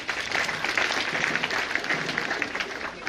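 An audience claps for first-year students at a university welcome address, sustained crowd applause with dense overlapping hand claps at an even level throughout, a few voices faintly beneath.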